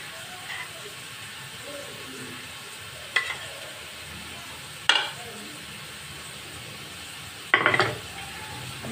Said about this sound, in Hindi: बैगन हमारे फ्राई हो गए थे थोड़े से, तो हम इसमें मसाला डालेंगे